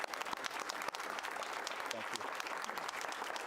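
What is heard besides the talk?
audience applause at a school board meeting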